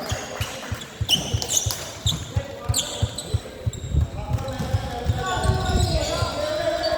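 A basketball bounces repeatedly in a quick, steady rhythm on a court while voices call out and chatter over a busy, echoing gym.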